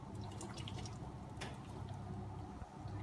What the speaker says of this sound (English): Now I pour the pasta out.